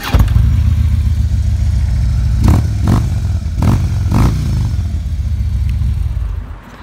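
An orange and black low-model motorcycle with a 103 motor and 20,284 miles idles steadily up close, its deep loping rumble broken by a few sharp revs and mechanical clatter before fading at the end.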